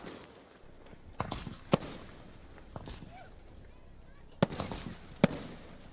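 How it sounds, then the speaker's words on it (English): Fireworks bursting over Ohsweken Speedway during the sprint car nationals, a handful of sharp distant cracks and pops spaced irregularly over a steady crowd murmur, with a person talking throughout. "the fireworks continue to go off"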